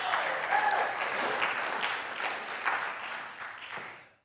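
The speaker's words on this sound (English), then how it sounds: "Could we have just a round of applause?" An audience at a talk gives a steady round of applause, dense clapping sustained for about four seconds before tapering off at the end.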